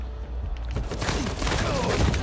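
Rapid gunfire crackles in a tight, dense burst during an online team match on the Madagascar map, sounding close and loud.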